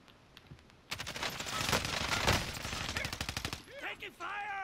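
Rapid bursts of automatic gunfire in a shooter video game, loud and dense for about three seconds before cutting off, followed by chirpy electronic game sound effects.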